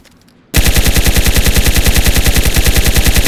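Rapid automatic gunfire in the video game DayZ bursts in after a half-second of near silence and continues as a loud, steady stream of evenly spaced shots to the end.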